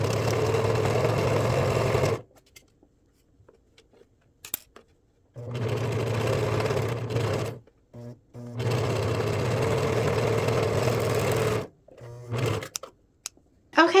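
Sewing machine stitching knit sweater seams with a stretch or zigzag stitch, running in loud steady bursts separated by silent pauses, with a brief start-stop run in between and a short restart at the end.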